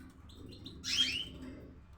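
Caged canaries and goldfinches give a few short chirps, then one brighter, louder trill, sounding close against a low background hum.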